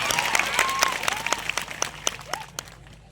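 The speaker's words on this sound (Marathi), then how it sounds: "या पाठा स्वागत आपण टाळ्या वाजवून घेऊया जरा जोरदार" Crowd applause at a tribal youth convention in Akkalkuwa, sustained clapping that tapers off into scattered claps, with a voice and whistle-like tones heard over it.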